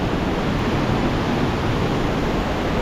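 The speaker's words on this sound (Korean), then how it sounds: "여기가 폭포인데 나무 때문에 잘 안 보여요" Huangguoshu waterfall in Guizhou, China, in high summer flow gives a loud, constant broadband roar of falling water that fills the whole stretch without a break and without voices.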